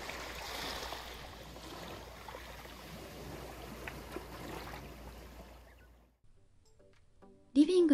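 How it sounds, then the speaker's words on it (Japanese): Calm, gentle sea waves wash on the Izu coast on a still, low-wind day, a soft steady broadband wash that fades out near the end before a brief sharp sound. "海とは思えないほど穏やかで優しい波音が辺りに響いていました"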